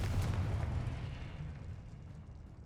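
A Confringo fire spell blasts in the Hogwarts Legacy video game, a deep booming explosion up front that rumbles and slowly fades over a couple of seconds.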